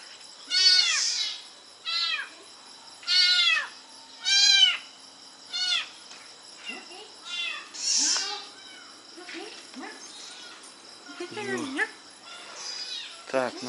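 Kittens and a mother cat meowing close by in a series of high, drawn-out cries, a dozen or so calls with short gaps, some overlapping, and a faint voice at the end.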